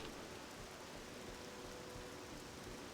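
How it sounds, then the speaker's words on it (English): Steady, dense rain pours throughout in the video game The Elder Scrolls III: Morrowind, a constant even hiss with no breaks, no thunder and no voices. "A lot of rain."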